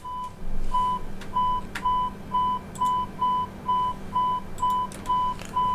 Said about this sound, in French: je vais déjà arrêter cette alarme là qui nous embête